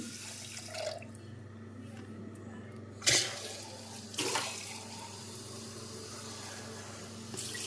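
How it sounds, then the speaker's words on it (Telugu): Quiet running water poured into rice and moong dal in a pressure cooker, with a couple of brief splashes and clatters, close by, no talking. "ఇంకొక అరసోడు పోసుకుంటున్నాం నీళ్ళు"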